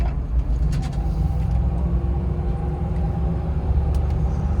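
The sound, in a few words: Range Rover P38 SUV driving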